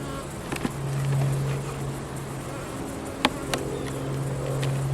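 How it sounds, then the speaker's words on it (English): Honeybees buzz steadily inside an opened hive during a November inspection, a low sustained drone with a few sharp knocks and scrapes of hive tools prying glued frames loose. "Oh, there are a lot of bees in here."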